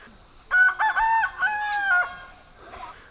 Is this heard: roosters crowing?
yes